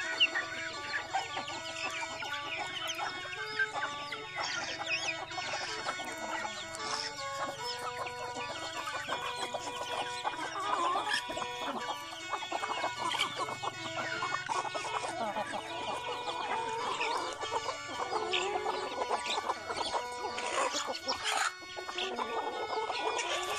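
A flock of free-range village chickens clucks busily while eating rice on a misty morning, with overlapping calls from many birds close by and continuing throughout.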